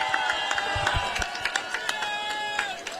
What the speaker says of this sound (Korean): 여러분 박수 한번 더 보내주세요.